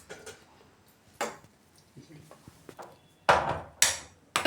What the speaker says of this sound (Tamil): இன்னொரு டம்ளர் சர்க்கரையும் போட்டுட்டு நல்லா மிக்ஸ் பண்ணிக்கலாம்